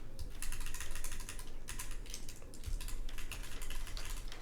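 Rapid, continuous keystrokes on a GODSSON Bowl Keyboards OC-62 mechanical keyboard fitted with Bowl keycaps, close and fairly soft, with an even clattering rhythm and brief pauses between bursts.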